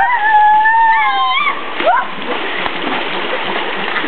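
Splashing water as someone jumps in, with excited voices calling out over a churning watery wash that continues after the jump.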